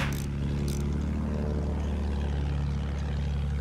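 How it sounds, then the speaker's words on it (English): A video-game aircraft drones steadily with a low propeller-like hum that holds the whole time, loud and continuous, with a couple of brief high-pitched bursts early on. "Our plane is up."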